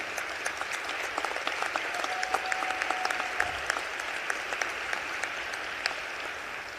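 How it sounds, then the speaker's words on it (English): Steady applause fills a legislative chamber as an audience honors the Illinois House Black Caucus, a dense, even patter of many hands clapping throughout with no speech over it. "Let's give them a round of applause."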